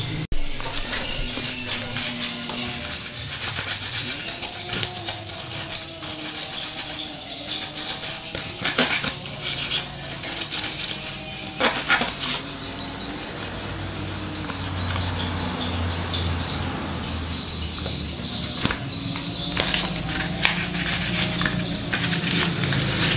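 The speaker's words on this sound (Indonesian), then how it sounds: "Bisa pakai amplas, pakai peso, pakai kikir, pakai sembarang lah, gergaji boleh. Kita bersihkan dulu." Corrosion being scraped and rubbed off a Honda Supra 125 motorcycle part, heard as close, irregular scratching and rasping strokes with scattered sharp clicks, continuing without speech.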